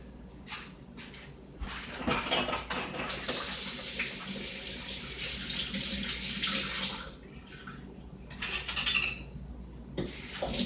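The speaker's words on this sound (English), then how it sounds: "Let me wash my hands." Tap water runs into a kitchen sink as hands are washed beneath it, a loud rushing stream for several seconds that stops, followed by light clinks and a brief final splash.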